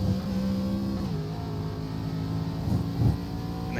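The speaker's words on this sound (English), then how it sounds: "You heard me go on the throttle" ARCA race car in a racing game at Watkins Glen, engine droning and revving through a gear under throttle, with steady tonal engine notes and brief rises in pitch, alone without talk.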